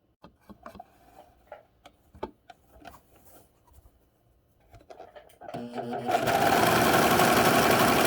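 A sewing machine stitches a fitted cot sheet, first in short, ticking bursts, then settling into a fast, loud, continuous run along a straight edge.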